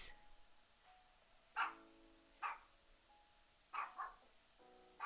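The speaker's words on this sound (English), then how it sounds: "Annie! Grace! Ladies, do not run through the house barking or at the door." Dogs bark indoors in a house, giving about five short, separate barks spaced a second or so apart. They are fairly faint and slightly distant, against quiet room tone.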